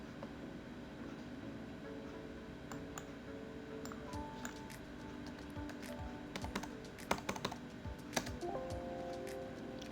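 Figures typed on a computer keyboard into payroll tax software, a steady patter of light close key taps with a few sharper strokes, over a constant background hum.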